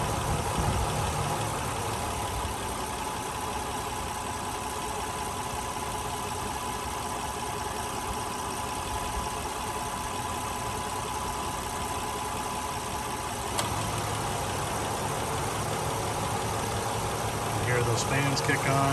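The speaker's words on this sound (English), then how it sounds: "I'm going to hover here so you can listen to it run at idle for a moment." A 2007 Honda Odyssey EX-L minivan's engine idling, a steady low hum heard up close with a faint change in tone partway through as something else kicks on.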